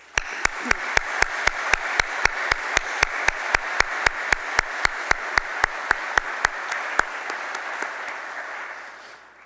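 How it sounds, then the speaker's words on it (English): Sustained audience applause at the University of Pittsburgh White Coat ceremony honoring a professor, with one close clapper's sharp, evenly spaced claps standing out over a steady wash of many hands before it tapers off. "Please join me in acknowledging his contributions with a round of applause."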